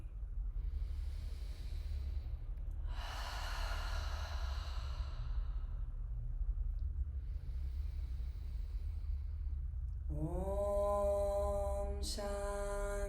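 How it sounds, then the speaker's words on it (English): One long, slow cleansing exhale during a meditation session, soft and close in a quiet room, followed by a held sung tone as chanting begins. "We'll seal our practice with a cleansing breath"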